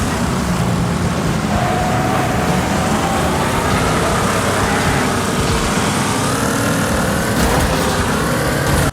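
Race car engines in the video game Wreckfest roar continuously at high volume, a dense mix of overlapping motors with rising and falling pitch as the pack races, with no talking.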